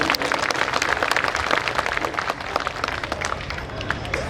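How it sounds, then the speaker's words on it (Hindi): Crowd clapping at a political rally marking the anniversary of Suheldev Rajbhar, steady brisk applause from many people close by, with faint voices mixed in throughout. "इसके लिए एक बार जोरदार तालियों से स्वागत कीजिए।"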